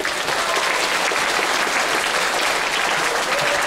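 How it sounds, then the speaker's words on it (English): Steady, dense audience clapping welcomes the makers of Kilwell fishing rods, a full burst of applause lasting a few seconds without speech. "Give them a big clap."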